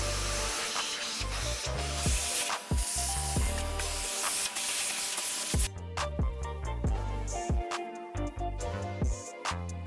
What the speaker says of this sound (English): let's go ahead and drench this thing with a bunch of window cleaner